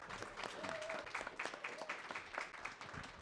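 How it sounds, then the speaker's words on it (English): Audience applause for an academic summit panel, a fairly faint, steady patter of many hands with a few louder individual claps, heard from a distance in a hall. "One more round of applause for this wonderful panel."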